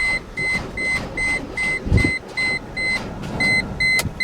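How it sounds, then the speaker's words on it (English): An OM606 turbo diesel engine cranks slowly and fails to start, giving a laboured, whining starter pulse that repeats about three times a second without catching. "Cranking super slow, so thing needs to charge more."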